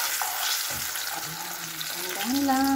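Eggplant sizzles steadily in hot cooking oil in a home kitchen, a continuous close crackle, with a brief voice speaking over it near the end.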